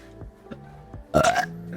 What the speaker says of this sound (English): I'm sorry for the burp.